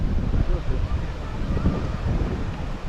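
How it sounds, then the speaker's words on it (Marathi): Strong wind buffeting the microphone with a low, rumbling roar of sea waves underneath, loud and continuous, on the Mumbai coast during cast net fishing. "आज वारा पण भरपूर आहे आणि लाटा पण खूप आहेत"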